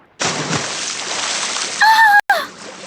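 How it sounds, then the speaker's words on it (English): Big wave crashes and splashes loudly, a sustained rush of water followed by a brief sharp tonal sound that cuts off abruptly. "Then a big wave splashed her face."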